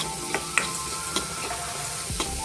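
Washed masoor dal sautés in oil in a pan, with a soft, continuous sizzle broken by a few light scrapes and clinks of stirring, heard up close with no talk.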